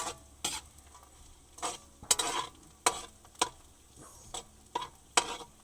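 A spatula strikes a pan in a steady rhythm of sharp scrapes while labong (bamboo shoots) sauté with dried anchovies, and a faint sizzle runs underneath.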